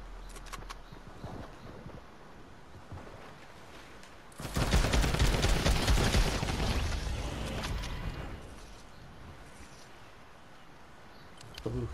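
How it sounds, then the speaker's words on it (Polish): Sniper rifle fire in the Fortnite video game, a loud sustained burst of gunfire and explosive rumble in the middle of the clip over game ambience, with brief sharper shots at the start and end. "jest ten snajper, który wali z 40-50 metrów"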